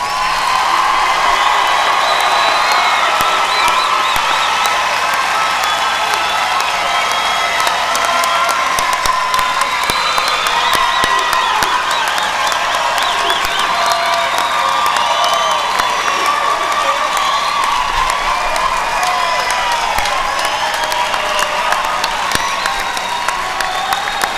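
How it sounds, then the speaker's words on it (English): A large crowd at a summer university graduation ceremony on the Troy campus applauds and cheers for the graduates, with sustained loud clapping, whoops and shouts that continue steadily throughout. "If we might have one more round of applause for today's graduates."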